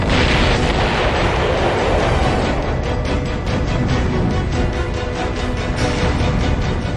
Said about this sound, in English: a storage tank erupts, causing a second massive explosion